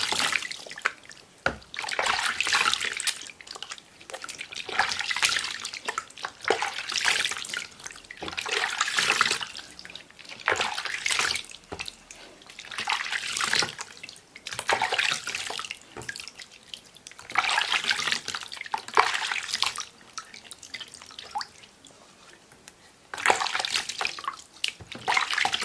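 Tap water runs and splashes as hands or feet are rinsed after a vinegar treatment. The rushing comes in close, uneven surges with brief lulls, and no voices are heard.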